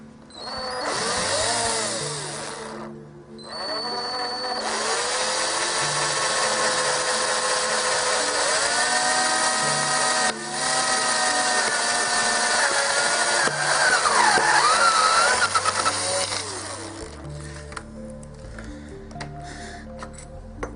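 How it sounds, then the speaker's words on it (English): A power drill with a step drill bit runs in long steady bursts with brief pauses and pitch shifts as it bites, ending in scattered ticks and clicks. "Start off with the regular step drill bit that I use"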